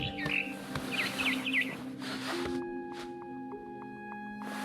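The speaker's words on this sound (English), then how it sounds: "Then I heard chirping outside my window. It was a barn swallow going back to her nest." Barn swallow chirping just outside a window in the game What Remains of Edith Finch: a few short bright chirps early on over steady ambient game tones and a low hum, then quieter background.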